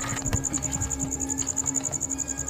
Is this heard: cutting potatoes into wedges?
no